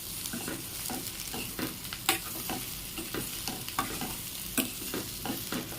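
Egg and vegetable samosa filling sizzles in a pan while a utensil stirs it gently, with soft scrapes and taps recurring irregularly over the steady frying hiss.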